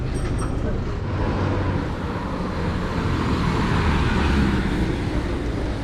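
A bus engine and road traffic at a roadside stop in Kuttikkanam, Idukki, make a loud, steady rumble with a constant broadband hum and no clear breaks, and faint voices sit within it.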